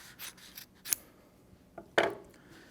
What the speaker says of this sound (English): So you take your outside lining in your canvas, and then you trim it down.